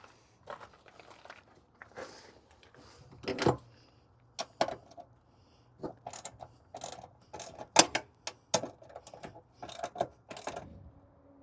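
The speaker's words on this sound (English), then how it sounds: "There's some 3/8 self-tapping screws. So I get those out." Self-tapping 3/8 screws being backed out of a sliding rail assembly on a 2008 Fleetwood Discovery RV, a series of quiet clicks, ratcheting turns and small metallic clatters in irregular bursts, close up with no talking.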